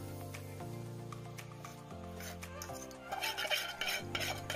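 Fried semolina for sujir pulao is stirred in a pot with moong dal and water, giving soft scraping and wet stirring sounds that grow more textured toward the end, under steady background music.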